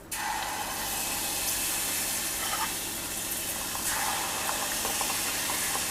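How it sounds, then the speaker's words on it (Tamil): Appam batter poured into hot oil in a small pan, a continuous loud hiss and bubbling fry that holds steady throughout with small crackles, close up. "எண்ணெய் சூடாயிடுச்சு. ஒவ்வொரு அப்பமாக ஊற்றிடலாம்."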